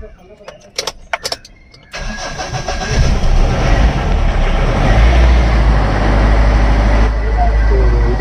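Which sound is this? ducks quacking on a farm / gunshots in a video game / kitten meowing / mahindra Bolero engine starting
mahindra Bolero engine starting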